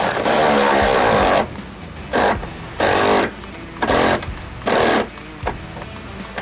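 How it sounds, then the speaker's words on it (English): Loud, close whirring bursts of a cordless ratchet spinning bolts off a Freightliner truck's front bumper: one long run followed by several shorter pulses with pauses between. "ratchets are fun, but make sure you have them charged"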